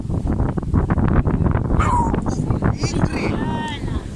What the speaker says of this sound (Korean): 저랑 친한 강아지입니다